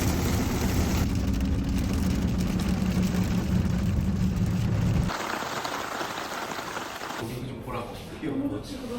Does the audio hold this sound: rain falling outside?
yes